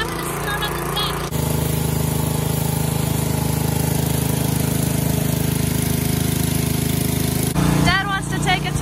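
A new pressure washer running steadily while cleaning a deck, a loud continuous engine drone with a high spray hiss, and voices briefly heard at the start and end.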